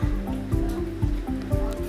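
Potato fritter batter for crispy batata bhaji is beaten by hand in one direction, making quick regular wet slapping strokes about four per second, close up and with no talk.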